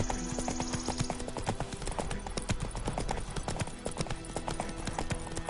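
Hooves of a galloping horse in the Witcher 3 video game pound in a fast, even rhythm, close and continuous for several seconds.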